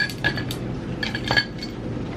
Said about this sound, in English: Then I'm going to grab some ice cubes and some milk. Throw in some ice in here.